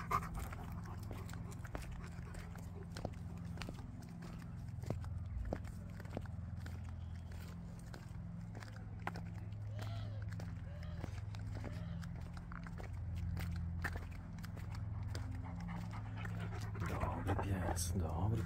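A dog pants and chews close by in a steady wet rhythm, with clicks and bites scattered throughout, while a person talks in Polish.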